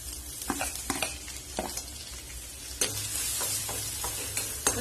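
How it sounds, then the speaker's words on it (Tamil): Garlic and ginger sizzle steadily in oil over high flame with a crackling hiss, broken by several sharp scraping stirs of a utensil against the pan; no voices. "இப்போ இந்த பூண்டு இஞ்சி ரெண்டையும் இந்த எண்ணெயில சேர்த்துக்கலாம்"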